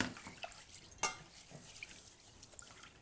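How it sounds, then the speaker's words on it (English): Rice rinsed with water in a bowl: faint, scattered splashes and drips, with one sharper slosh near the middle, heard alone and quiet. "Put some more water over top."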